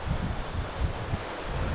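Steady, gusty wind buffets the microphone with low rumbling roars and no voices.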